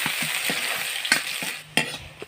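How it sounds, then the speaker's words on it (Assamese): Onions sizzling in leftover oil in a wok after fish was fried in it, a steady close frying hiss broken by several sharp stirring scrapes, with no talk. "সেইকাৰণে মই ইয়াতেই পিঁয়াজখিনি ভাজি ল'লোঁ"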